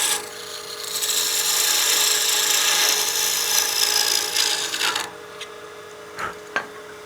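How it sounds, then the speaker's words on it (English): Narrow parting tool cutting a wooden whistle off a spinning lathe, a loud steady rasping scrape lasting about five seconds, then the cut stops and a couple of light knocks follow, close up with no talk. "We'll grab our narrow parting tool, and I'll just support this lightly with my support hand and just part this off."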